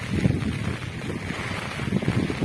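Cyclone-driven rain storm with strong wind sweeping over a village, heard as a steady, gusting rush with heavy low buffeting against the microphone throughout, no voices.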